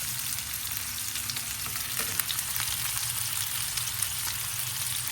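Rice for pilaf fries lightly in a pan, a close, even sizzle broken by occasional stirring scrapes, with no one talking.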